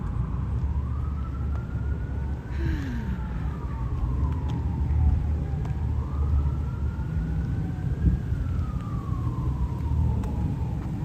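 Ambulance sirens in Manhattan, heard from Roosevelt Island, wail in long rising and falling sweeps from a distance, layered over a steady low rumble of traffic.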